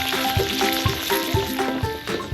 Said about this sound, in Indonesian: Bibi mulai menumis bumbu halus.